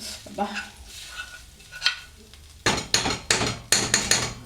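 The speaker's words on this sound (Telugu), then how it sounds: "అంతా ఇందులో వేసాను కదా, మంచిగా మిక్స్ చేసేయాలి" A spoon stirs tamarind pulp, chili powder, salt and spices in a pan for a broad-bean pickle, with faint scraping and then louder rhythmic clanks and scrapes up close.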